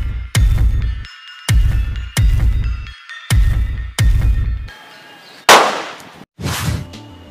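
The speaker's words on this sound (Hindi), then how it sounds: "और इसकी जो आवाज़ है इस गन की वो काफ़ी ज़्यादा है।" A homemade battery-powered electric toy gun fires about six loud, sharp clanging shots in an uneven rhythm, each with a short metallic ring, and a brighter noisy burst comes near the end.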